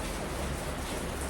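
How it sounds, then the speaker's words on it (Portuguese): Heavy rain pours steadily beside a covered pergola at a house, a dense, close, continuous hiss of falling water with no breaks and no voices. "Tá chovendo forte, a água vem de lá."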